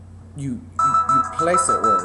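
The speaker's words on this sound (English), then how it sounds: "Ooh, that's my phone." A mobile phone ringtone starts partway through and plays a steady electronic melody over continuing speech, fairly loud and close.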